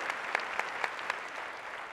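Audience applause at a corporate recognition meeting, a steady wash of clapping with a few sharper claps standing out, moderately loud and continuous with no talk.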